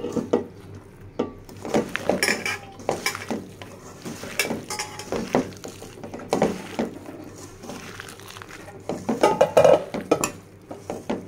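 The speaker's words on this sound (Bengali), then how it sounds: "সিম দিয়েও এভাবে মাখিয়ে নেব।" Flat beans are mixed by hand with spices in a bowl for a mola fish dish, giving soft, intermittent squishing and light clinks of the bowl, close and unhurried.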